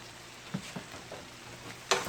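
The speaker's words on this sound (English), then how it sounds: "I'm just sauteing these down" Vegetables sauteing in an Instant Pot give off a soft steady sizzle, broken by a few light scraping stirs and a sharper clatter near the end, close and quiet, with no talking.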